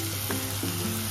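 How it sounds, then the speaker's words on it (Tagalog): Ready-made chickpeas stirred in a hot pan, a close steady sizzle with a couple of quick spoon scrapes over about a second, no voices. "Hinalo-halo ko lang para pantay ang luto niya"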